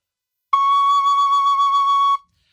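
A tin whistle sounds one clear, pure note, held steady for about a second and a half, loud and alone, with a clean start and a sharp cutoff.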